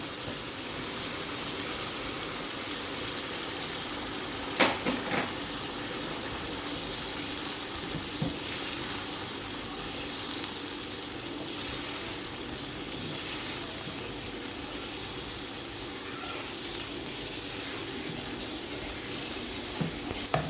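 Potatoes fry steadily in a pan with mint chutney, coriander and peas for aloo bhujia, giving a continuous soft sizzle with a few brief clinks and stirring knocks and no talk.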